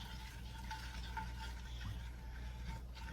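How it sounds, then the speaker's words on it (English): Gravy for biscuits and gravy is worked around a pan with a spoon, giving faint, close scraping and soft bubbling over a steady low hum, quiet and continuous, with no voices. "I'm just going to stir that in good"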